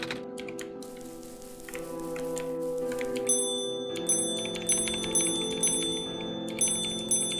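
A bell in the game OneShot rings repeatedly in regular strikes, each a bright metallic ding, over a sustained musical backdrop, growing more frequent toward the end.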